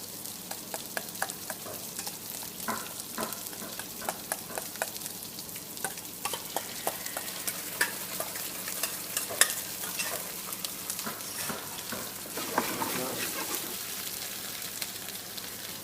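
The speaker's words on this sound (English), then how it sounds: "I'm just going to heat up our pan for a bit of this chili tomato sauce" Chili tomato sauce bubbling and sizzling in a hot pan, an irregular crackle of pops and spits with stirring scrapes, steady and close for the whole stretch with no talk.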